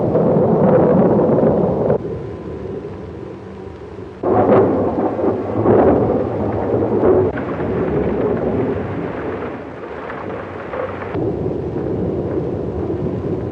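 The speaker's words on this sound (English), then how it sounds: "Lightning like gun flashes. Thunder like heavy artillery." A thunderstorm sound effect from a 1930s radio drama: deep rolling thunder crashes and rumbles over a constant hiss of rain, loud and close, with no voices.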